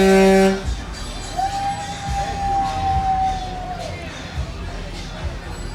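Cadillac car horns blare at a Jeffersonville Independence Day parade: a loud chord of stacked horn tones, then a long steady honk from a passing car, all over a murmuring outdoor crowd.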